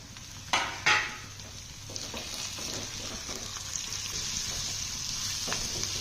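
Chopped tomato and coriander drop into a hot frying pan with a couple of sharp clatters. A steady close sizzle follows, with faint stirring scrapes and no talking.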